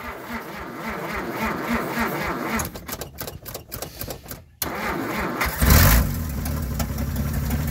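A 1947 Dodge 232 flathead six-cylinder engine is cranked cold, a rhythmic, labored starter churning for several seconds before it catches, then settles into a loud, steady, slightly uneven idle.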